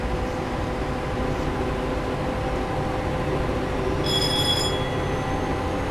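Valenta HST diesel train in Train Simulator 2017 on the Paignton to Exeter route, engine rumbling steadily at full power, with a brief high whine joining partway through; no talking.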